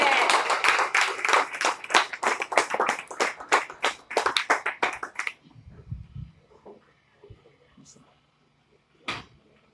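Church congregation claps for Pastor Evans after a sermon, a dense rhythmic round of applause for about five seconds that quickly dies away into a quiet room with faint shuffles and one short knock near the end.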